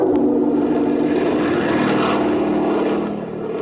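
Propeller airplane engine droning loudly and steadily throughout as the plane banks and noses toward an airfield over a bay, a radio drama effect, easing off slightly near the end.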